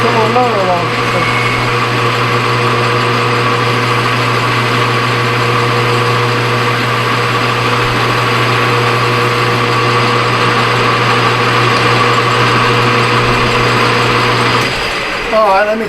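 A metal lathe knurls a gas knob, giving a steady high mechanical whine and hum with a strong tonal drone that holds evenly, then cuts off near the end.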